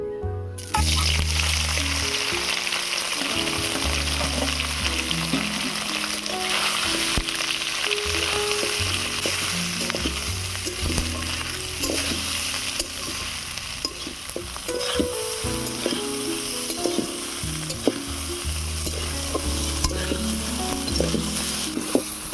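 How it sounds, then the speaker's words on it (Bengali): Squeezed soybean chunks frying in oil, a continuous close sizzle and crackle with faint tapping and scraping from stirring throughout, no talking. "এবারে সয়াবিনগুলোকে ভেজে নেব।"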